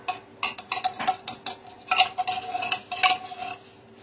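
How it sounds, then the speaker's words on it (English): A spoon stirring a can of cream of mushroom into hamburger steak gravy in a pan, irregular scraping and clinking strokes against the metal, close and clear with no voices. "And we're going to mix this up as well."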